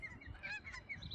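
Geese honk in a short burst of several overlapping nasal calls, fairly faint and distant, outdoors at a spot where ospreys are building a nest.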